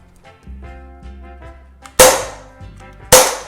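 Two sharp, loud cracks from a Glock 17 pistol ring out about a second apart, each with a bright burst and quick decay, after a quieter stretch of low tonal sound.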